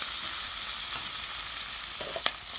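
Vegetables with dried curry leaves sizzle and fry in a pan for sambar while being stirred, a steady soft hiss with a few brief scraping clinks near the end.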